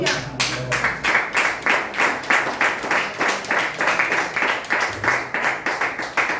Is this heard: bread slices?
no